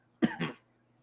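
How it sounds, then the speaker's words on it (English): A single short cough, close and fairly loud, in two quick bursts, with silence before and after. "Stop coughing. It's not allowed. Everybody coughs."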